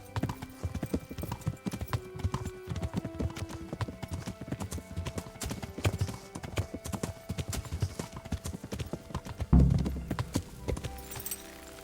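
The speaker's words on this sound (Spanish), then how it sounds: "parece que sus caballos sí que se mueven bastante bien" Horses trot in Kingdom Come: Deliverance, with continuous rhythmic hoof clip-clops over game music and ambience, plus a heavier thump near the end.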